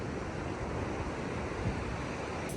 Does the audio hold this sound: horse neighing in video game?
no